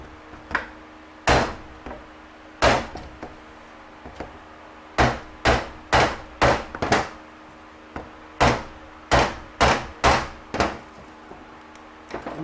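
A hammer taps at a snap ring inside a 68RFE transmission during teardown, giving crisp metallic knocks in uneven clusters, around eighteen strikes in all, close and fairly loud with quiet gaps between.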